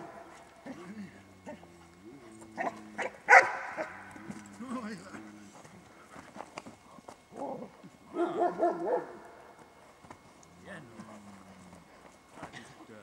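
A dog barks in short bursts alongside scattered footsteps and thumps, with people talking throughout.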